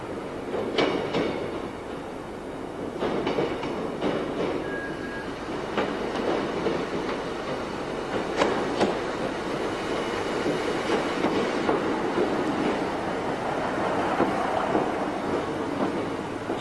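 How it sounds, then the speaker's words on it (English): A Class 155 Sprinter diesel multiple unit runs on rails toward a station stop, with a steady rolling rumble, rhythmic wheel clicks over rail joints and occasional faint squeals, continuous and fairly close throughout. "As the train approaches its first station stop"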